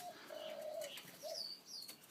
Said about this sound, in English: I've got a couple more Gouldians in here